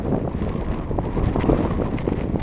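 Gusty wind on a winter mountain climb of South Thunder Mountain, a steady low rumble buffeting the microphone with small surges throughout, no voices.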